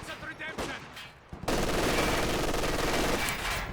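An MG42 machine gun in a WWII strategy game bursts into sustained rapid fire after a quiet opening, the dense rattle running loud and continuous to the end.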